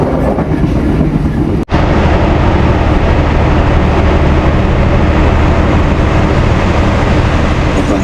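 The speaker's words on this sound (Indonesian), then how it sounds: "Kereta api Kahuripan." Loud, continuous rumble and roar of the Kahuripan passenger train moving along the rails in Indonesia, with a brief sharp break early on, then steady rolling noise.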